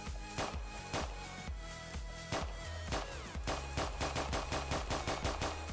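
Rapid gunfire in the Roblox-style game Prison Life: a dense run of sharp, loud shots, some in quick bursts, firing steadily with no talk.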